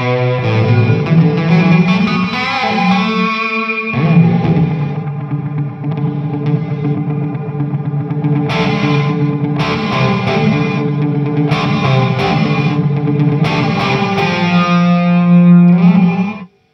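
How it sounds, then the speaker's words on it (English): Distorted electric guitar through a Boss RV-5 digital reverb pedal in gated mode, sustained chords and choppy stabs carrying an eerie reverb tail that cuts off abruptly when playing stops, loud and alone without talk. "So really cool sort of eerie reverb effect, and it's pretty much sidechained to your playing."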